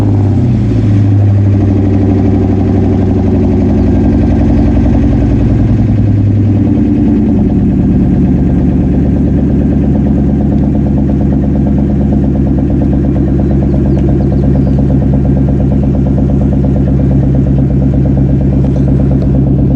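A 2004 Ford Mustang Mach 1 V8 runs loud and close, its engine revving up and settling into a deep, steady, throbbing idle without any talking.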